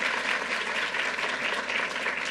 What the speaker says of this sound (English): Let's give a round of applause to Assemblymember Rosenthal.